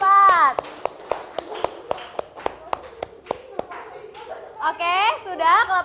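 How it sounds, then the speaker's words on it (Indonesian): Children in a classroom clap in a steady, evenly spaced rhythm for group 4, about a dozen crisp claps, with young voices chattering at the start and end. "Tepuk tangan dulu buat kelompok 4."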